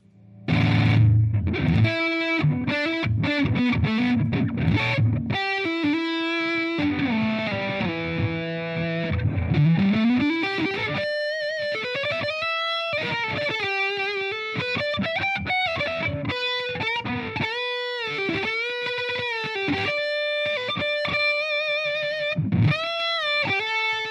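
Electric guitar through a Big Muff fuzz pedal, thick and saturated, playing sustained notes and bends followed by a quicker melodic run, loud and up front.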